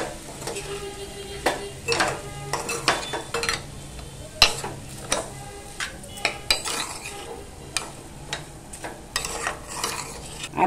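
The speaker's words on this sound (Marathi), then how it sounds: "एकदा आहे ना सर्व असं मिक्स करून घेऊया" A spoon works fast-day potato curry and fresh coriander around a pan, making repeated scraping and clattering strokes against the metal over a soft background sizzle, close and without speech.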